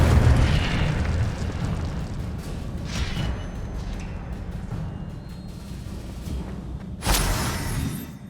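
An Incendio fire spell bursts in the Hogwarts Legacy library, a loud sustained whooshing roar with a fresh flaring blast near the end, and no talking.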